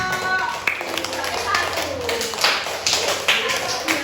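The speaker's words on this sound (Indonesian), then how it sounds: "Beri tepuk tangan untuk kelompok 1." Children in a primary school classroom clap for a group of classmates, a loose, uneven burst of small hands that swells and fades in waves, with a voice or two heard under it.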